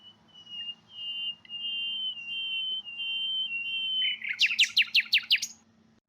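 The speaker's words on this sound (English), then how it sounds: "We recorded pairs of naturally interacting nightingales in the wild during their breeding season in Germany" A wild nightingale in Germany during the breeding season sings a long sustained whistle, then a fast run of rising chirps near the end, clear and fairly close over a low background hum.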